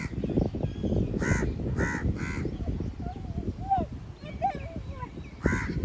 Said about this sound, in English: You see the crow.